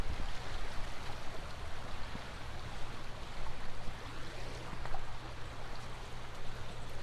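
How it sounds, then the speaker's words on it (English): A forest river runs in a continuous, even wash of flowing water, alone and close, holding a steady level for around seven seconds with faint splashy detail. "Beautiful river"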